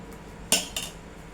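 A utensil stirs dosa batter in a metal vessel, giving two quick clinks against the pot with a brief scraping tail, close and fairly quiet in a calm kitchen.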